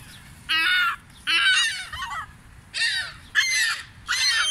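Pigeons giving loud, harsh bursts of calls, five separate noisy flurries each about half a second long with short gaps, close by and heard without speech.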